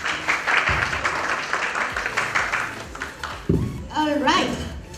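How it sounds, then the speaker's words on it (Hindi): Audience applause at an awards ceremony for women, a sustained wash of clapping from a crowd with a host's voice talking over it. "जोरदार तालियां रहमा जी के लिए।"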